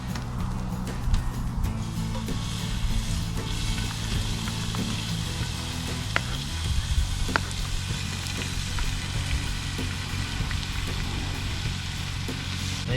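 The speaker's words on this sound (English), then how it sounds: "chuck some beef in." Beef sizzles in a hot pan over a campfire at a caravan camp in Western Australia, a steady crackling hiss holding throughout with low outdoor rumble beneath.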